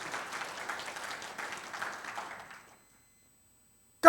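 Church congregation applauding during a Sunday service, a soft, even patter of many hands that fades out after about three seconds, then silence.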